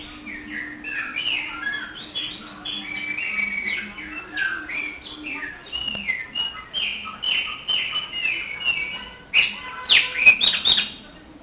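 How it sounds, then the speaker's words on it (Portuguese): A chopi blackbird sings a rich, varied run of loud whistled phrases and chirps, close and clear, building to livelier bursts toward the end. "vamos aos cantos dos passarinhos"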